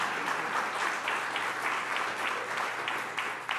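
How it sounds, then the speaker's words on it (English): A crowd at a talk by Nikole Hannah-Jones on The 1619 Project breaks into sustained applause, a dense, even wash of clapping lasting several seconds without speech. "y'all definitely should clap for that"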